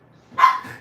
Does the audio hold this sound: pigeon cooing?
no